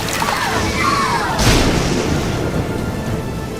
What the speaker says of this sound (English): Look, another storm is coming.